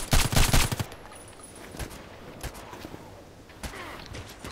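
In a multiplayer shooter video game, a dense burst of rapid automatic gunfire opens, then single shots crack sporadically and more faintly over the following seconds.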